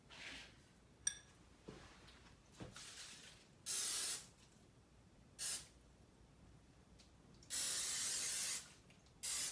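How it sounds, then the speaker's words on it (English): Cooking spray hisses from an aerosol can onto a small casserole dish and a set of silicone cupcake liners, in several separate bursts of one to two seconds each with quiet pauses between, close and fairly loud. "next we want to spray our dishes"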